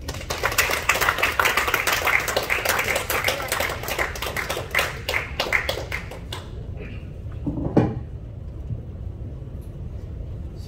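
An audience at a speech club's evening meeting claps together in a dense, lively burst that holds for several seconds, then thins to scattered claps and fades into a quiet room.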